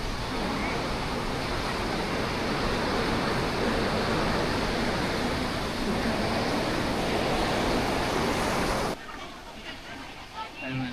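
Sea waves wash along Samudra Beach in Kovalam, Kerala, a broad continuous surf roar heard close for most of the stretch before dropping away sharply near the end, where quieter wind and movement remain.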